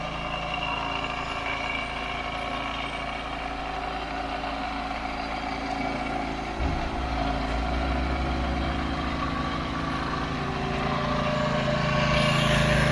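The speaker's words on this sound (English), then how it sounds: "Because the engine isn't lugging down or anything doing this." A steady old forklift engine runs close by, a low continuous rumble that deepens and strengthens slightly partway through, with no voices.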